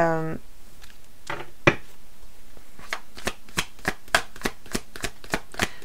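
A deck of oracle cards is shuffled by hand, starting with a few scattered riffles and settling into a quick, steady run of about a dozen crisp card flicks, close and moderately loud, with a short voice at the start.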